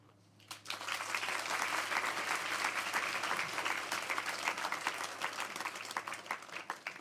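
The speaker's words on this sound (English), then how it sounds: "can we get one more huge round of applause to everybody from the Holy Family School for the Deaf for their performances" A large audience at a children's book awards ceremony gives a big round of applause for performers from the Holy Family School for the Deaf, swelling quickly after a brief lull and holding thick and steady, with a low hum beneath.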